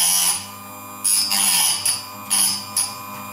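A Parkside PSS 65 B1 electric sharpener hums steadily while a tool is pressed against it in about four short, brighter grinding bursts, close and fairly loud.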